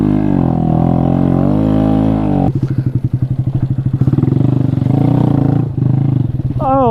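A Honda Grom motorcycle engine labors off-road up a steep hill. It holds a loud, steady drone, then drops into a rough, pulsing chug that stutters and revs close by. No one speaks.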